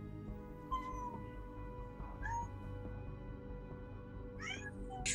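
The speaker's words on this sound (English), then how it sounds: "I think there's a kitten around here somewhere." A kitten meows several times from mid-distance, faint thin cries spaced out over a steady low hum of background noise.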